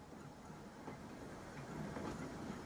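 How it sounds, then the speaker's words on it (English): A freight train rolls past in the railway-building game Transport Fever 2 as a steady, low rumble with faint rhythmic clacking, distant and even throughout. "Though our trolley will have to wait for the train to pass."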